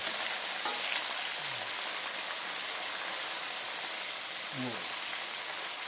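Steady crackling sizzle of grasshoppers frying in hot oil, with faint squeaks of stirring now and then and no talking.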